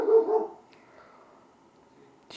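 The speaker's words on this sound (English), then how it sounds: "She's barking while it was up the road." A dog barks at a trailer passing on the road, one short close bark burst at the start, then quiet background with faint traces.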